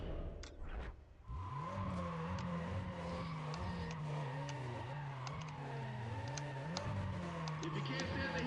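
Race car engines roar and rev continuously in the Need For Speed ProStreet racing game, with rising and falling gear pitch, loud and close, and a short quiet gap near the start.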